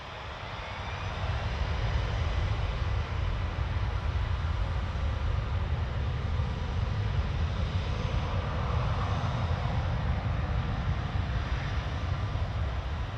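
An airliner takes off at Toronto Pearson Airport, its engines swelling into a loud, steady roar that holds without a break and has no voices over it.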